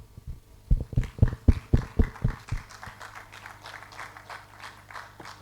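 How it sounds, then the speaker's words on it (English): An audience at a climate initiative event breaks into applause, a burst of strong individual claps for about two seconds that thins into lighter, scattered clapping from a crowd. "A round of applause as we bring to the podium Mrs. Rachel"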